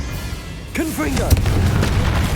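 A Confringo blasting spell goes off in Hogwarts Legacy on PS5: a shouted incantation, then a deep booming blast with crackling bursts that rumble on through the rest of the moment.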